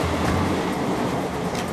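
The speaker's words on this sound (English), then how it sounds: "They had the trains going past." Train rumbling past a back garden at home, a brief, steady broadband roar with a low hum underneath, fairly loud and continuous with no voices.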